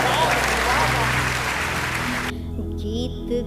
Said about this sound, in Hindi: एक बार तालियां बजाकर बिना भूमिका के जोरदार तालियों से एक बार फिर दोबारा।